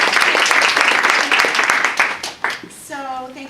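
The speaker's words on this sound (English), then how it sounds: "We do preemptive applause." An audience in a conference hall claps in dense, steady applause for a couple of seconds, which then thins out and fades as a person's voice begins speaking over the last scattered claps.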